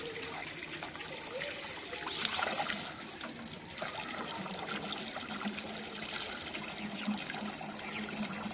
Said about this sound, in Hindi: इन चावलों को जो है उनकी धुलाई की जा रही है। हम इनको साफ कर रहे हैं पानी के साथ